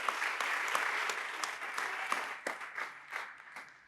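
Audience applause at a national forum on reparations, dense steady clapping that thins out and fades toward the end, heard alone without talk.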